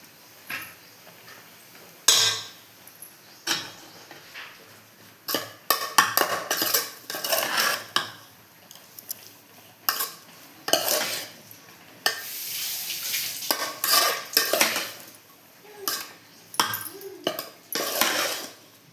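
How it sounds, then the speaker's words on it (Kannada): Metal spoon scraping and clinking against a pan while chopped coriander is mixed into vegetable rice bath, a steady run of irregular scrapes and taps with no talking. "ಸಣ್ಣದಾಗಿ ಕಟ್ ಮಾಡ್ಕೊಂಡಿರೋಂಥ ಕೊತ್ತಂಬರಿ ಸೊಪ್ಪನ್ನ ಇದ್ರ ಜೊತೆಗೆ ಹಾಕಿ ಮಿಕ್ಸ್ ಮಾಡ್ತೀನಿ ನೀಟಾಗಿ"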